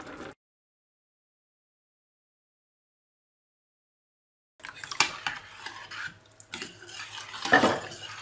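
A spoon stirs milk rice pudding in a pot, with rice cooked and a litre of milk just added. After a long silence, close scraping and swishing stirring strokes come in with light clinks against the pot.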